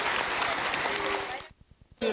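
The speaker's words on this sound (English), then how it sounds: "Another round of applause," A crowd gives another round of applause at the 1992 Pineapple Prince & Princess Pageant, a children's pageant in Jensen Beach; the steady clapping breaks off after about a second and a half, leaving a few faint taps before a voice comes in.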